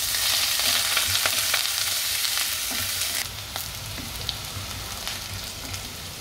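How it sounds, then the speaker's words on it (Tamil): Onion, green chili and curry leaves sizzle steadily in an oil-filled pan, a close, dense frying hiss with occasional stirring scrapes that eases slightly partway through. "அது இந்த வெங்காயம், பச்சை மிளகாய், கருவேப்பிலை இது 3 வதக்கணும்."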